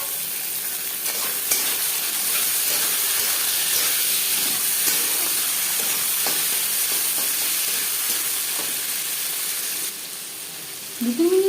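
Chickpeas frying with garlic in hot oil make a steady, loud sizzle with intermittent scraping as they are stirred, while a brief clatter comes near the end.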